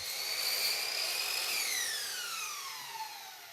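Saw biting through chair rail molding, a loud high whine that starts steady, then falls in pitch as the blade slows down, with no voices.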